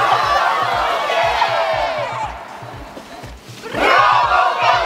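A crowd chanting and shouting in loud, sustained unison surges, dipping briefly before swelling again, over a steady pulsing rhythmic beat.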